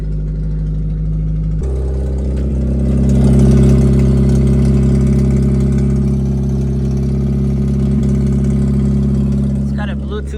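A car engine idles steadily while warming up, a deep, even hum close by that swells slightly for a few seconds and then settles back to a constant drone.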